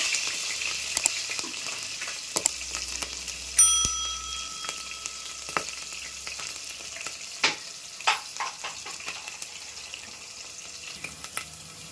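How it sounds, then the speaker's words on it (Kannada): Green chillies frying in oil for a Tamil Nadu style mutton biryani, a steady close sizzle with scattered crackles and a few sharp metallic clinks and scrapes of a utensil against the pan. "ಹಸಿಮೆಣಸಿನ್ಕಾಯಿ ಎಣ್ಣೆ ತಕ್ಷಣ ಫ್ರೈ ಮಾಡ್ಕೊಳ್ಳೋಣ"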